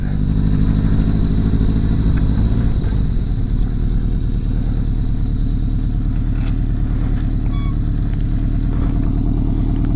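Motorcycle engine running steadily nearby, a loud low throbbing drone with faint mechanical clatter and no talking, holding a constant pitch throughout.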